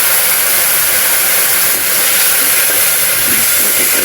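Water splashed into a hot pan of chili paste with salt bursts into a loud, steady, close sizzle and hiss that holds unbroken throughout.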